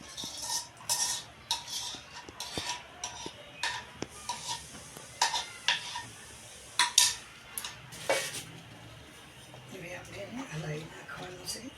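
A spoon clinks and scrapes against a pot while boiled milk with powder is stirred, repeated close metallic taps and swirls running beneath a person talking throughout.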